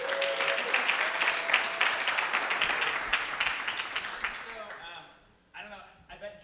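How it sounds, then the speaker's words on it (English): Audience at a hacker community conference applauds steadily for a few seconds, a dense wash of clapping that fades out near the end as a voice begins speaking. "Everyone clap for Dan."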